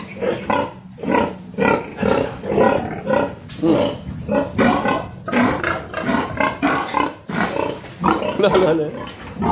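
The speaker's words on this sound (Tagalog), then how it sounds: "Kadaghan baboy." Many pigs on a farm grunt and squeal loudly and continuously, the close, harsh calls overlapping into a dense din with no break.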